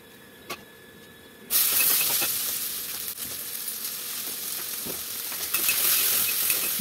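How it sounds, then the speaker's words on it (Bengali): Potatoes sizzle in hot oil for Bengali aloo bhaja, a sudden loud hiss bursting in after a quiet start and continuing as a steady close crackling fry with a few light clinks, no talking. "আর এদিকে আলু ভাজাটাও করে নেব"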